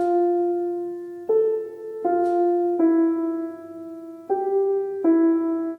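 Piano plays the opening measures of a beginner piece on white keys only. Six clear, evenly paced single notes ring out alone, each struck cleanly and sustaining until the next.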